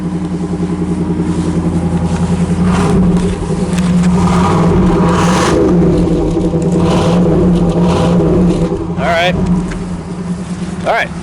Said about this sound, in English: Let's start it up. I want to hear it. I want to hear the exhaust.